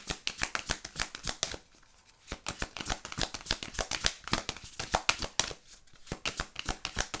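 Oracle cards are shuffled by hand in a quick, steady run of crisp riffling slaps, close and fairly loud, with one brief pause partway through before the shuffling resumes.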